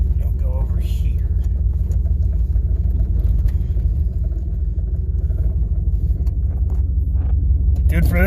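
A Ford F-150 truck engine rumbles steadily and loud while driving, with a continuous low drone throughout and a voice talking briefly over it near the start and end.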